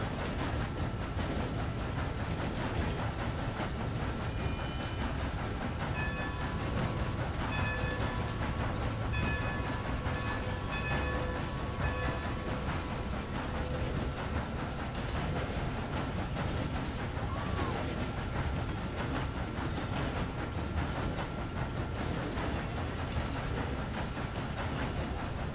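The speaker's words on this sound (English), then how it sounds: "It's hard to escape when you're on a train." A train in the game Red Dead Redemption 2 rumbles along steadily with rolling wheel noise and faint metallic tones, a continuous loud ride with no talking.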